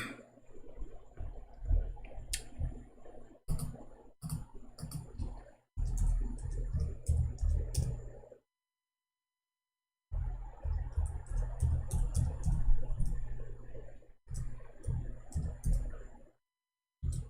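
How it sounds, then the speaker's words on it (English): Computer keyboard typed on in bursts, a dense run of clicking keystrokes that pauses briefly and resumes, close and moderately loud with no talking over it. "this stupid keyboard"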